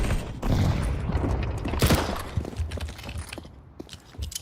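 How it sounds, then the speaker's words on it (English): A flashbang grenade goes off in a video game as a loud broadband burst amid rumbling, gunfire-like noise, followed by quieter clatter as it dies away. "Throwing flashbang."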